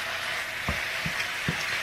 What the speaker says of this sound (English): first you're going to start off with grounding your ground beef, and I love using my little skillet pan